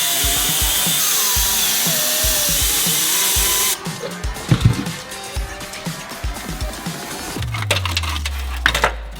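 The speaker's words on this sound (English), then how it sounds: "drilled out the spot welds" A drill works at spot welds on the rear strut tower of a 1976 BMW 2002. A loud, steady whine gives way to choppy bursts of drilling and metallic clatter, close up and with no talk.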